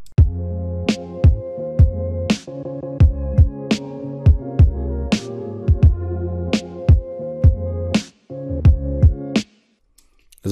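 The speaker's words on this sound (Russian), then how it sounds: "если мы уберем все, что связано с панорамой" A mono instrumental beat with every element centred and no panning: punchy kicks, sharp snares and hats over a tonal bass line, looping steadily before dropping out near the end and leaving a short silence.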